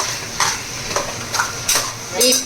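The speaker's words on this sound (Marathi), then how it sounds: "हे व्यवस्थित मिक्स करून घ्यायचं आपल्याला" Chicken biryani mixture mixed in a pot, loud repeated scraping and clanking strokes of a spoon against the pot over a low sizzle, close and rhythmic.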